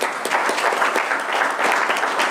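Steady applause fills a Cherokee Nation tribal council meeting, a dense crowd clapping continuously and loudly throughout.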